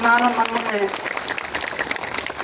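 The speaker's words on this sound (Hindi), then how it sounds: "एक बार जोरदार ताली" An outdoor audience at the annual Koya Karsaad festival stage in Kavadgaon, Dantewada, claps in a brief burst of applause as a voice on the microphone trails off.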